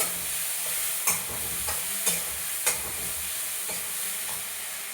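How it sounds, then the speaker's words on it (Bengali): Spicy puti fish frying in a pan with masala and a little water, stirred now and then: a steady hiss with a few sharp scraping clicks of the spatula, close by and alone. "নাড়াচাড়া করবো"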